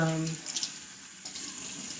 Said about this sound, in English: I just don't want to make a mess all over the sink, splashing right now.